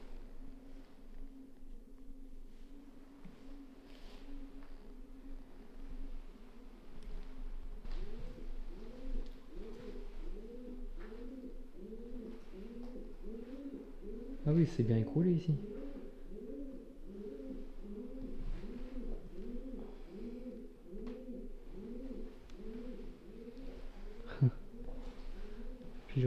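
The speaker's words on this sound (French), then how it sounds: "Les pigeons, on les entend de partout, comment ça résonne." Pigeons coo continuously in rhythmic, overlapping phrases that echo around the empty upper floor of a derelict abbey, with a voice briefly speaking and a few footsteps and knocks amid the calls.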